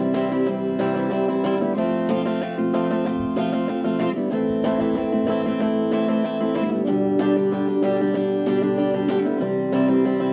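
Ukulele strumming a song's chorus at an even, steady tempo, with continuous rhythmic chords played up close and no talking.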